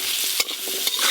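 Hog plums frying in mustard oil with spices are stirred in a pan, giving a close, steady sizzle broken by two sharp scrapes of the spoon.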